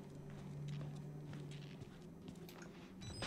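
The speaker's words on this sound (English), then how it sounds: "I hear footsteps." Footsteps in the horror game Outlast fall as faint, muffled, evenly spaced steps in a dark, quiet space, sounding somewhat distant under a low ambient hum.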